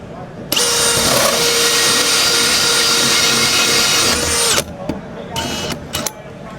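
A Milwaukee hole saw cuts to enlarge an existing hole, giving a loud, steady whining grind for about four seconds before stopping abruptly, followed by a few short bursts of handling noise.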